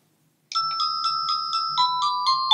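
Avantek DT52 wireless doorbell chime plays a bright electronic melody of about nine evenly spaced tinkling notes, close and clear after a short silence, with no voices.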